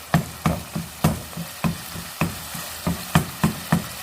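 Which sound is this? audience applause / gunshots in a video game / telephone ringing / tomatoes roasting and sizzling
tomatoes roasting and sizzling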